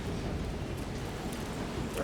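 Steady rain in Resident Evil Requiem, a continuous dense hiss of falling water without any breaks, fairly quiet and even throughout.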